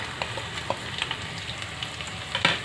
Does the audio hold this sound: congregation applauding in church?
no